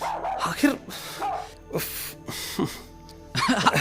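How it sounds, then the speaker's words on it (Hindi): A dog barks and yips in short bursts under and between people talking in a Hindi TV comedy scene, the barks mixing with the voices at close range. "आपका कुत्ता बड़ा पानीदार है"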